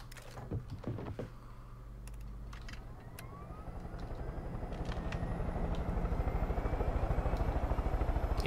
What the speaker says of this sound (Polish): O, jest helikopter.